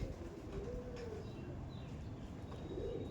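Bangladeshi black dobaj pigeons coo softly at close range, a few low rolling calls with faint chirps and rustling in the background.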